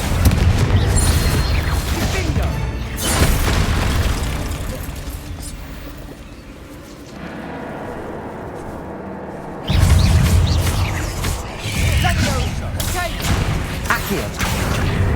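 Spells crash and boom in a Hogwarts Legacy battle against spiders, with loud blasts and thuds clustered at the start and again near the end, a quieter stretch between, and voices shouting under the din.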